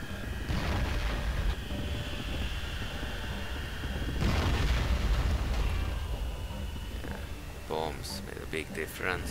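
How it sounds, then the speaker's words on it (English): Bombs from air strikes in a Total War 1942 jungle battle, Thailand against the French Republic, go off as rumbling booms and a sustained roar of battle, with a louder blast near the middle and someone talking over it. "Bombs from the air."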